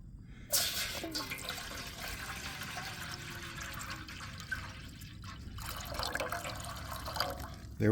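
Water runs into a cooking pot for boiling eggs during curbside cooking, a steady close splashing stream that starts abruptly and pours on continuously, with a brief clatter at the end.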